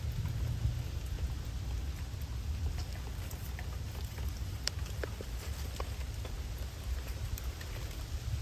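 Rain falls steadily in a garden on a wet day, a dense, even hiss of drops with occasional sharper patters and a low rumbling undertone. No one speaks.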